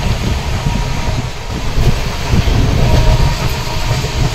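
A train rumbles past close by, a loud continuous roar of wheels and carriages with rhythmic rattling.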